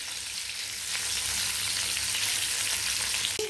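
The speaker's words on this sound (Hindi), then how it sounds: "फिश को ऐसे करके करना पड़ेगा ताकि दोनों साइड में" Fish pieces fry in hot oil for a potato fish curry, giving a dense, continuous crackling hiss up close, with a single soft tap near the end.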